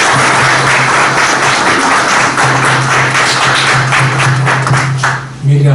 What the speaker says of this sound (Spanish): pido para ella un aplauso muy significativo